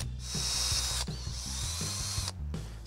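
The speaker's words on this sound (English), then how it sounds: "drill the hole with the bearing in a secure spot" A power drill whines steadily through metal, drilling a hole in an engine bearing for a Big Block Chevy 572, pausing briefly mid-way before starting up again, close and continuous.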